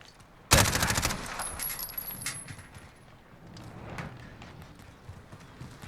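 A rapid burst of MP5/10 10mm submachine gunfire in Call of Duty Modern Warfare, loud and close, a tight string of shots lasting about half a second, followed by quieter in-game clatter and scattered impacts.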